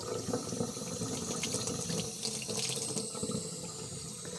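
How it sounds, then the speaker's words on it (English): Hot water pours steadily from a tap into a sink, a continuous splashing rush that stays loud and close throughout. "now what we need to do is to turn on the water and let it get hot"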